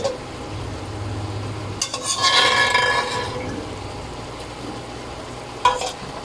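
Food is stirred in a pan during cooking, a burst of scraping and sizzling in the middle with a soft sizzle underneath and a sharp clink of a utensil near the end.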